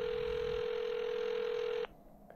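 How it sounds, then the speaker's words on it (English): A single telephone ring tone on an outgoing call, one steady loud buzzing tone lasting nearly two seconds before cutting off, heard alone. "think it's ringing"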